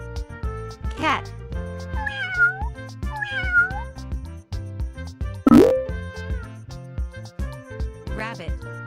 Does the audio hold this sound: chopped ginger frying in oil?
no